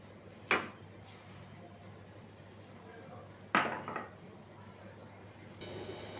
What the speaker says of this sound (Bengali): এবার আমি এর মধ্যে সুজিটা ঢেলে দেব।